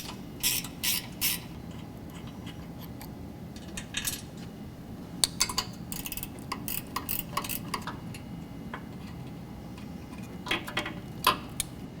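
Ratchet backing out two 10mm bolts from a vacuum pump bracket behind a Jeep's front bumper, with scattered metallic clicking bursts over a steady low hum, no speech.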